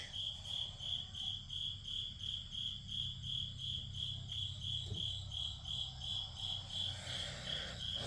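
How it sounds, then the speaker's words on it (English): Steady, pulsing cricket chirps fill the night air outdoors, a continuous high trill repeating at a quick, even rhythm with no voices. "hear all the crickets out there"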